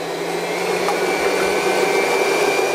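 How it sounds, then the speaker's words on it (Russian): An electric mixer whips eggs for an apple charlotte cake, giving a steady, loud motor whine with a constant high hum throughout, and no talk. "Взбиваем яйца, чтобы все увеличилось в объеме и стала такая большая пышная масса."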